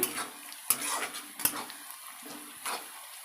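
Browned onions frying in a pan, stirred with a metal utensil: a few sharp scrapes and clinks against the pan over a soft, steady sizzle, close and fairly quiet.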